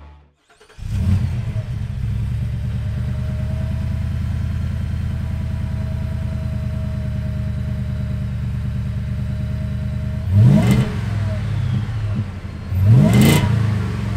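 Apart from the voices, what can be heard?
V8 truck exhaust revving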